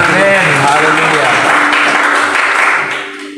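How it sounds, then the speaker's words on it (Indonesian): A congregation at a church service in a Jakarta apartment claps loudly, the applause blending with cheering voices before it tapers off near the end. "Berikan tepuk tangan."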